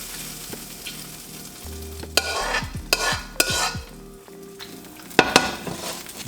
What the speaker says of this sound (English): that moist meat into that wok and let's get it sizzling